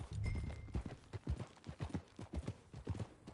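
Horse hooves clip-clopping at a steady walking rhythm in Red Dead Redemption 2, moderately close and fairly faint, with no voices over them.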